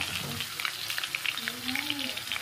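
Garlic frying in hot oil in a home kitchen, a steady close crackling sizzle with scattered pops and a faint low hum beneath, no talk.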